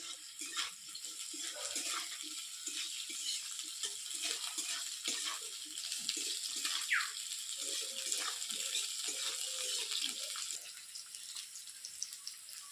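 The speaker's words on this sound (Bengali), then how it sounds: "জল ঝরিয়ে নিলাম" Boiled noodles for veg paneer chow mein being drained in a strainer, a steady close rush of pouring and trickling water lasting throughout, with faint clinks and drips underneath.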